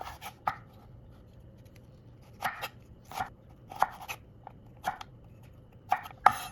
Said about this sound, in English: Peel the carrots, cut them into thin strips as well.